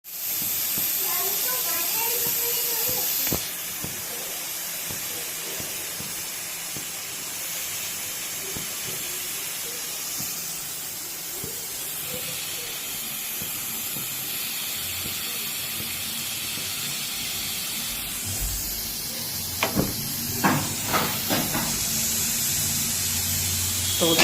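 A pressure cooker vents steam in a sustained, loud hiss after its whistle opens, holding steady for many seconds before a few sharp metallic clatters near the end.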